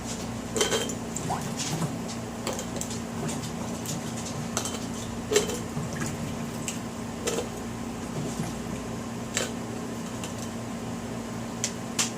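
Potatoes get shaken down into glass canning jars, giving scattered light clinks and knocks over a steady low kitchen hum, with no talking.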